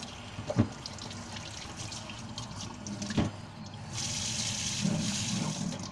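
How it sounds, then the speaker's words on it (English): A kitchen tap runs as hands are rinsed beneath it, a soft steady stream of water with a couple of louder splashes and drips, the flow growing fuller toward the end. "get rid of this and rinse my hands"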